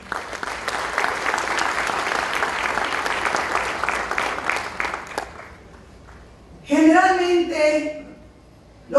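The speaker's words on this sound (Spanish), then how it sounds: "queremos brindarles un fuerte aplauso a todos ustedes" Applause from an audience at a formal institutional event, dense steady clapping for about five seconds that fades out, followed by a voice speaking.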